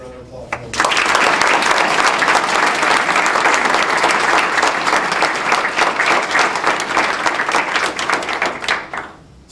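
Loud, sustained applause from a gala audience at the 2009 Windsor Shad Derby, a dense wash of many hands clapping for about nine seconds before tapering off, with some voices mixed in.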